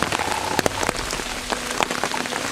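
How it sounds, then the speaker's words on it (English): Rain patters steadily on a surface on the slopes of Mount Kilimanjaro at about 4,500 feet, with scattered close drop impacts over a constant hiss and no voices. "Believe it or not, it's actually raining"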